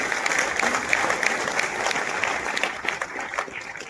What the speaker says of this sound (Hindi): मैं चाहूंगी कि एक बार जोरदार तालियां अपने लिए बजाएं।